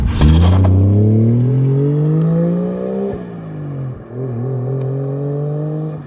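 Toyota Soarer with a 1JZ turbo engine pulls hard through the gears, its loud steady engine note climbing in pitch, dropping at two quick shifts, then rising again from close by without any talk.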